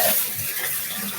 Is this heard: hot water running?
yes